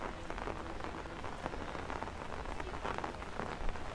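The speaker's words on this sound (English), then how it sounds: "I'm waiting in the rain." Steady rain patters densely on surfaces during a morning hike in Hong Kong, an even wet hiss with no voices and scattered close drops.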